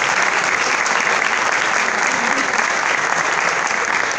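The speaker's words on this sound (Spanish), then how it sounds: "Muchas gracias. Un aplauso." Sustained, dense audience applause fills a carnival awards ceremony, a steady loud wash of clapping with no pauses.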